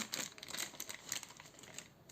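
A plastic packet holding an Avon women's razor with replaceable cartridges crinkles and rustles close by in quick, irregular handling bursts, with no voice over it.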